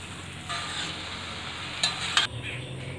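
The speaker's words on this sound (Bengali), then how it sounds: "ভালো করে এটা মিক্সড করে নেব।" Soybeans, potato, carrot and long beans being stirred into a khichuri pot: a continuous close hiss with a few scraping and clinking strokes of a spoon near the end.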